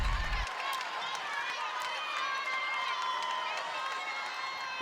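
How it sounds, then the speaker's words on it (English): Roaring crowd noise from spectators at a 4A state final volleyball match, a sustained loud wash of cheering with a sharp thud at the start and faint commentary underneath. "The PA crowd getting loud again."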